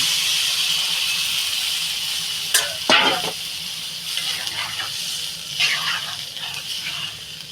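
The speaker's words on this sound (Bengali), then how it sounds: "আমি এবার জল দিয়ে দেবো পরিমাণ মতন" Water is poured into a simmering pabda fish curry with potato, papaya and green chilli after the spices are fried, giving a steady hiss with a splashing burst partway through and softer gushes later.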